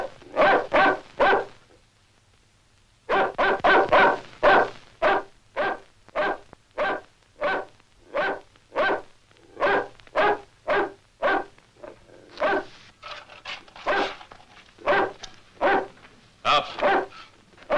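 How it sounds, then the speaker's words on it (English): A dog barks in repeated loud, close bursts, a short volley, a pause, then a long steady run of barks with occasional whimpers, alone without talk. "We'll see if that dog can move you."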